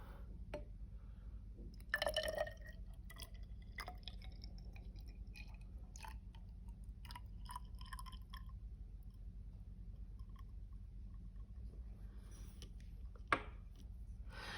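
Water is poured and trickles into lab glassware during a school chemistry practical, soft intermittent splashes and drips over a low background hum, quiet and close, with no talking.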